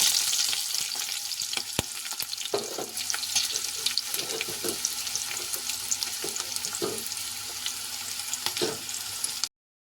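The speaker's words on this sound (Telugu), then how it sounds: "ఆయిల్ కూడా వేడెక్కింది ఇప్పుడైతే ఉల్లిపాయ ముక్కలు పచ్చిమిర్చి ముక్కలు అయితే వేసుకుంటాము" Onion and green chilli pieces fry in hot oil for a mushroom curry, giving a steady bright sizzle throughout with scattered faint scrapes and clicks, close and continuous, then cutting off abruptly near the end.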